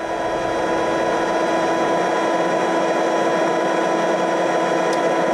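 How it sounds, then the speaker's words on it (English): A heat tool melts embossing powder on a stamped card, giving a steady, loud, even whirring blow with no change in pitch or rhythm from start to finish. No one speaks. "with my heat tool I'm going to start embossing"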